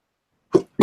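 A person gives a short sneeze, a quick sharp burst followed by a louder second expulsion, close to the microphone in an otherwise quiet room.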